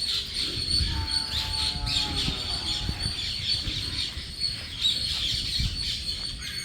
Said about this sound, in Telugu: పక్షుల సౌండ్స్ వా వా వా సూపర్ అంటే సూపర్